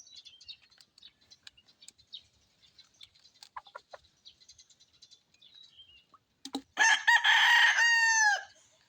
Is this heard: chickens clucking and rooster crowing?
yes